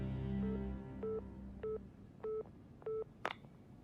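A phone being dialed to call Kaede: a run of four evenly spaced dual-tone dialing beeps follows a low hum, then a sharp click closes the sequence. Clear and close, with no talk.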